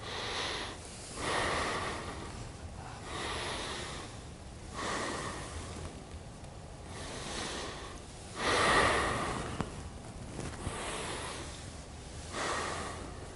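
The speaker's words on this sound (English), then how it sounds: "And when we go down, we exhale. When we come up, we inhale." Deep, slow breaths during a yoga breathwork session, with long audible inhales and exhales alternating in a steady rhythm, close and clear with no talking.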